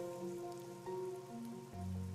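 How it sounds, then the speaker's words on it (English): Steady rain patters across surfaces in the detective game Master Detective Archives: Rain Code, a soft continuous wash under low sustained background music tones. "The rain, it never stops."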